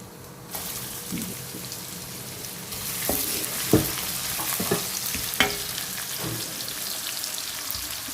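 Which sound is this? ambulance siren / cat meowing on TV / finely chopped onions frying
finely chopped onions frying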